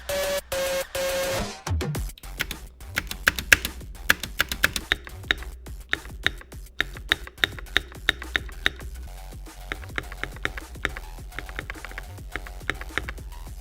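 Rapid clicking keystrokes on a Keychron mechanical gaming keyboard with pre-lubed switches, a dense burst of taps with sharper isolated presses, close and clear after a short opening musical sound.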